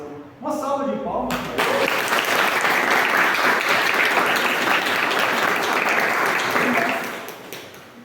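A church congregation at a Pentecost service bursts into loud, sustained applause after a brief spoken line, the clapping holding steady for several seconds before fading out.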